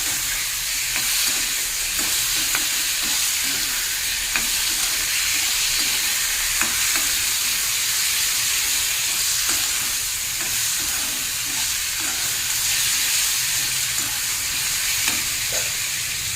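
Chopped tomatoes and potatoes fry together in a pan for a thin fish curry with ridge gourd, giving a steady, loud, close sizzle with faint occasional stirring ticks throughout.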